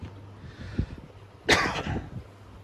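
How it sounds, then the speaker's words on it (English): A single sharp, tickly cough bursts out, loud and close, over faint low background noise, with a few softer throaty sounds before and after. "Still got this tickly little cough."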